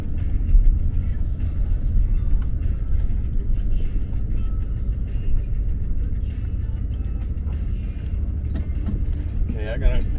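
A vehicle engine runs steadily with a constant low rumble close by while the driver prepares to back up, and a voice can be heard over it.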